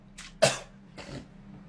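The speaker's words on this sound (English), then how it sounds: "Bro coughed like an iPad kid." A short burst of coughing, one sharp cough followed by a softer one, close by over a quiet hum.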